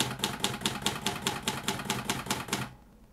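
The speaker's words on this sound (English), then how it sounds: "I continue striking the underscore key until the words very important are completely underlined." A typewriter's underscore key is struck over and over in a steady, even rhythm of about a dozen crisp, close strikes, which then stop and leave a faint room hush.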